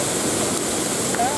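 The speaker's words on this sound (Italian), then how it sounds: "Siamo alle cascate dell'innamorata" Steady, full-bodied roar of a waterfall at San Fele after several days of rain, a dense continuous rush with a faint whistle-like tone near the end.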